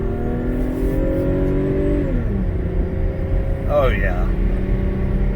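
Inside a 2001 Toyota Sienna LE, the engine drones and climbs steadily as the van pulls uphill, its tone dipping briefly as it shifts. Someone speaks a short phrase over the continuous road noise.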